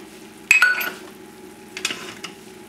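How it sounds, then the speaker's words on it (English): Arborio rice poured into a non-stick skillet and stirred, giving a sharp rattling scrape and sizzle, then quieter stirring with a couple of short utensil clinks. "Now I'm going to add the arborio rice."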